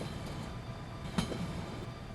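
A freight train in Train Simulator Pro USA rumbles along in a steady, moderately loud run, with one brief sharp clank from the railcars midway.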